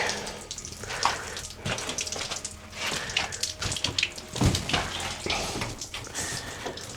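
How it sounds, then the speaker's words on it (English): Water running and splashing from a tap attached to a pipe behind an old 1700s cottage, a continuous close gush with irregular spattering and dripping. "there's water coming from everywhere in this thing."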